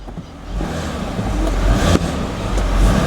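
A Toyota Sienna minivan revs hard during an attempted burnout, its engine roaring loudly and rising in waves close by, with no talking.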